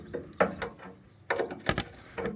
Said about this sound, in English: Take this bolt out, which I believe is also a 10mm.